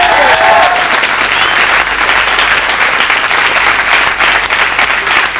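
A studio audience on a 1992 Icelandic television talk show breaks into loud, sustained applause that stays dense and steady throughout. A brief whistle-like tone rises above the clapping near the start.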